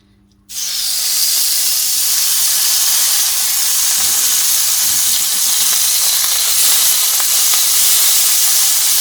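Meat hits a lightly oiled hot cast-iron pan and erupts into a loud, steady hiss and sizzle that holds at full strength without letup.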